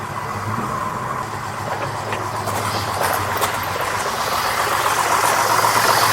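A six-cylinder car engine misfires at a rough, unsteady idle, running on five cylinders. A continuous, close, loud engine drone carries through the whole stretch.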